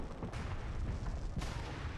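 Fireworks burst over an amusement park in the video game Fallout 4 Nuka World, giving two dull, distant booms over a steady low rumble, faint overall.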